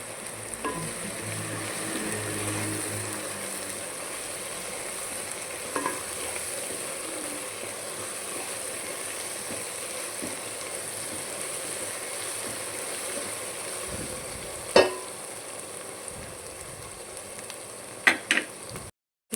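Sorrel leaves and goat tripe fry in a pan with a continuous bright sizzle, broken by occasional scraping stirs and a few sharp utensil clicks toward the end.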